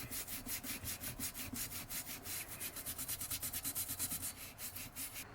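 Rapid, steady back-and-forth scrubbing strokes, several per second, rub away a ring of grime on a corroded metal fitting aboard a narrowboat; close and fairly quiet, with no talking.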